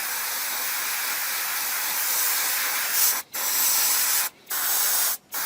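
Aerosol spray paint hisses steadily in silver base coats onto parts of a Bandai 1/72 scale Y-Wing model kit, a continuous close spray broken by three short pauses near the end.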